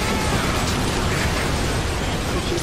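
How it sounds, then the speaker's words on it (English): A plasma cannon shot in the game Earth Defense Force 5 makes a loud, continuous, dense crackling roar that fills the whole moment with no break. "I just got shot by a Floyd plasma cannon."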